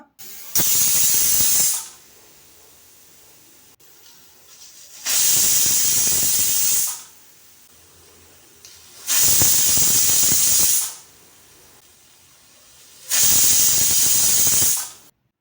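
A pressure cooker used while making moong dal payasa vents loud steam whistles four times in regular bursts. Each hiss lasts about a second and a half, and there is quiet between them.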